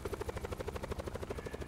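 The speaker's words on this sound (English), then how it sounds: "Helicopter." A helicopter in Black Ops 4 Blackout, heard from close by: rapid, evenly spaced rotor thumps pulsing at a steady beat over a low engine drone, moderately quiet in the mix.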